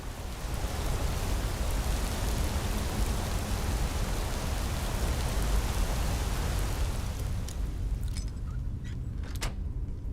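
The steady roar of a waterfall in the Skyrim video game fills the space as a constant, dense wash of rushing water, which thins out near the end as faint clicks come through.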